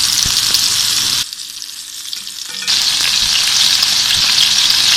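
Beef gola kababs fry in a pan with a loud, steady, close sizzle, briefly dipping quieter for about a second and a half before resuming at full strength.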